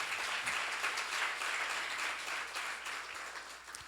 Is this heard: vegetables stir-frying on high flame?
no